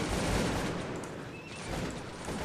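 Dense, continuous battle din from a Cossacks 2 game, grenadiers firing volleys and throwing grenades, a roaring wash of overlapping gunshots and blasts with no pauses, loud and steady throughout.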